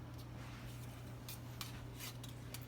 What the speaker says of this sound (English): you just start using the pastry blender